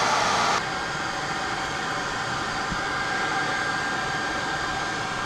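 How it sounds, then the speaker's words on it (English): A hair dryer blows with a steady, loud whooshing hum, heating a hose on a Can-Am Maverick X3; its pitch shifts slightly early on, then it runs continuously. "I've got a hair dryer in here heating up that hose to make it more flexible"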